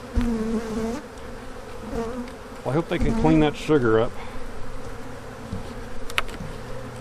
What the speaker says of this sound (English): There's a few bees over here.